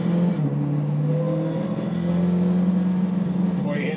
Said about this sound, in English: Boy, you hear that supercharger just whine.